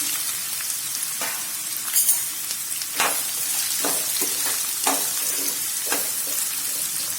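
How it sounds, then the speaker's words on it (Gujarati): Chopped spiny gourd hits hot oil with crackling cumin seeds and sizzles loudly and steadily nearby. Sharp bursts come in as the pieces are stirred, and no one speaks. "जीरू आपणुं ततरी गयुं छे तो तेनी अंदर आपणे समारेला कंकोड़ाने लई लईशुं।"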